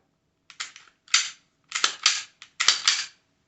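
On an unloaded gun, the trigger is tapped repeatedly, giving about seven sharp metallic clicks in uneven pairs and singles, close and crisp against silence.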